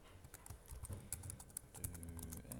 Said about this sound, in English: boring typing